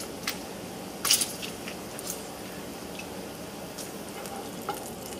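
Bacon sizzling in a frying pan, a steady soft crackle with occasional sharp pops and one louder spatter, fairly quiet and unbroken throughout.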